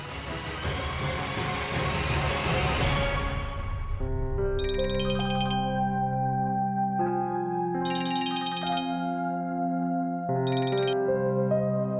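A phone rings out as a call is placed in a Hindi TV drama, a repeating electronic ringtone melody in clean, evenly spaced bursts following a brief rush of background music, with no one speaking.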